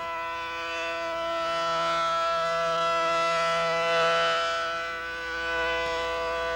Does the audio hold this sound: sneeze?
no